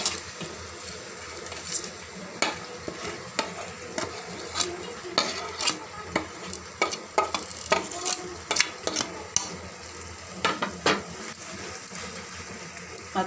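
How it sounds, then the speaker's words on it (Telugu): Fish pieces fry in masala in a pan while a spoon stirs them, giving a soft continuous sizzle punctuated by irregular scraping clinks of utensil against metal. "మసాలా అంతా చేపలకు పట్టేలాగా వేయించుకోవాలి, ఒకసారి అన్నీ ఇలా కలుపుకోవాలి"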